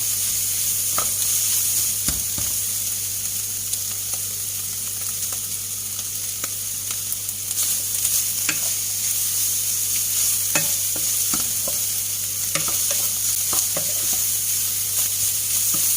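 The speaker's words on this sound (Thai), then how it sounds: "ผัดจนส่งกลิ่นหอมเลยค่ะ หอมมากๆ หอมกลิ่นเครื่องแกงค่ะ" Thai curry paste being stir-fried in a pan for a river snail curry: a steady, close sizzle of frying with irregular scraping and clicking of the spatula as it stirs, no voices.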